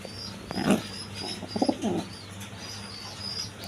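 A pair of Racer pigeons sitting on two eggs give short, soft coos in a couple of brief bursts, nearby, against a faint steady background hum and no talking.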